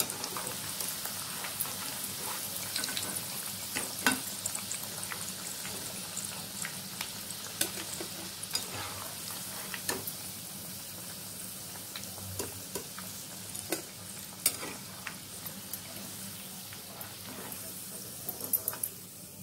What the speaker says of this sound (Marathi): हे बघा अशा खरपूस तांबूस रंगावरती आपल्याला तळून घ्यायचे आहेत